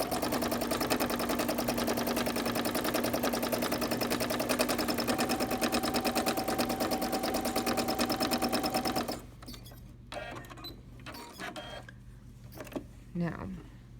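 A sewing machine stitches a quilt with its thread tension set too tight, giving a loud, steady, rapid mechanical whirr for about nine seconds. It then stops abruptly, leaving quiet handling noises and faint voice sounds.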